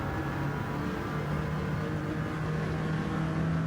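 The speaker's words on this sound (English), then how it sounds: "This is not electric, so you can actually hear this engine." A Peugeot diesel race car engine at a Daytona race holds a steady, loud drone with a constant low hum and no clear revving, running continuously throughout.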